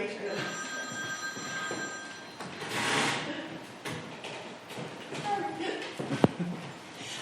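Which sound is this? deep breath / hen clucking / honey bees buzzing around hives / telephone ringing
telephone ringing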